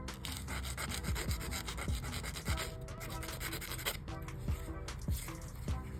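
Press-on nail tips being buffed, a soft continuous rubbing and scratching that is close but quiet, with small irregular scrapes and no voices.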